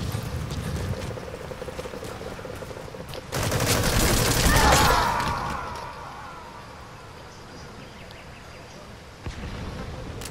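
Gunfire in the Metal Gear Online video game, a sudden dense burst of rapid shots in the middle, set against ongoing background game noise, with a sharp single crack near the end.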